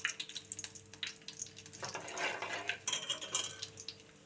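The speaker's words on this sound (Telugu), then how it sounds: "ఆవాలు బాగా చిట్టుపట్టాలండి, అప్పుడే కూర టేస్టీగా ఉంటుంది." Mustard seeds splutter in hot oil in a pan while a bottle gourd curry is being made, giving quiet, scattered crackles and pops with a soft sizzling hiss that swells in the middle.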